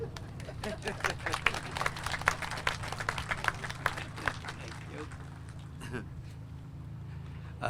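An audience at an outdoor marina ribbon cutting and dedication claps and cheers, with busy clapping building over the first few seconds before it thins and fades, mixed with crowd chatter.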